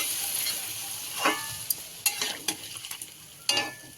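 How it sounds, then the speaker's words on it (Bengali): Spice paste fries in a pan for a fish curry, with a steady hiss under intermittent spoon scrapes and clinks that grow busier toward the end. "আমি এখনও মশলা কষাচ্ছে অনেকক্ষণ ধরে কষায় অনেক টাইম লাগে"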